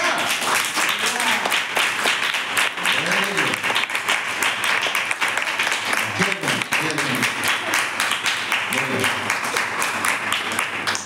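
Church congregation clapping quickly in unison during an Odia Christian service, a dense, steady burst of hand claps lasting throughout, with voices calling and singing underneath.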